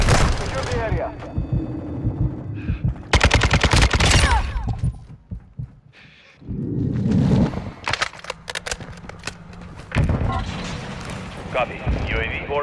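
Rifle fire in a shooter video game comes as rapid bursts of loud close shots, separated by brief lulls, with a voice speaking over parts of it.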